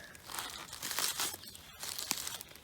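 A knife cuts a wild mushroom out of the ground on a spring mushroom hunt: close, crisp crunching and crinkling of stem and forest litter in short bursts, with no talk.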